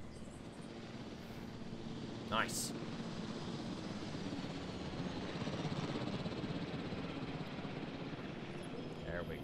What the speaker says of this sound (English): Helicopter's back.